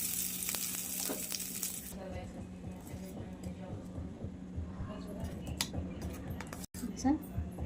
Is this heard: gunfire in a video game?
no